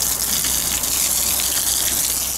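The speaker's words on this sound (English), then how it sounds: "Right, so I turn the tap on and just let it flush through for a bit." Water gushes from a tap through an expanding hose to flush it before filling an RV, motorhome, camper van or caravan water system: a loud, steady rushing hiss close by, with no speech.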